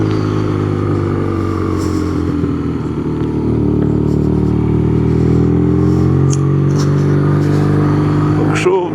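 A BMW motorcycle engine runs with a steady, loud, close droning rumble whose pitch wavers and rises slightly, ending in a few brief mechanical clatters.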